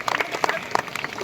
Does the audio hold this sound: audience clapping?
yes